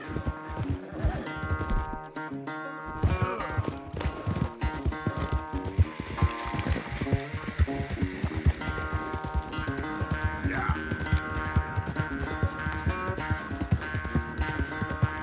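Horses gallop in a race in Red Dead Redemption 2, their steady hoofbeats running under a loud, continuous orchestral game score with no voices.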